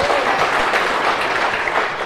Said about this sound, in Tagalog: Palakpak ni Jesus.